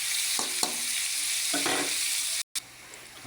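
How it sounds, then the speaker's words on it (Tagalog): Chopped pork frying in a pan for Filipino igado, a loud steady sizzle with a few scraping stirs and a brief dropout near the end. "Ilagay na po natin yung ating nahiwang mga pork."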